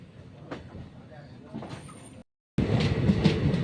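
A Mangalore–Thiruvananthapuram Maveli Express passenger train passes close by with a steady, loud rumble and rattle, cut by a brief gap of silence before the noise returns stronger, and faint voices are mixed in.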